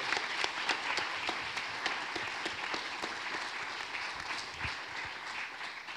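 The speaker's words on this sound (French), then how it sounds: "il faut les applaudir" Sustained audience applause at a conference with Afghan women, many hands clapping in an even, moderately distant wash from a seated crowd, continuing without pause and without speech.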